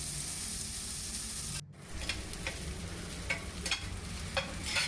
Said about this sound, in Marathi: 2 कांदे बारीक कापून घेतलेले आहेत। ते छान लाल होईपर्यंत परतून घ्यायचे।